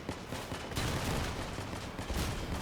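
Volley-fire weapon shooting in the vehicle combat video game Crossout, a dense, continuous roar of rapid overlapping blasts that stays loud throughout.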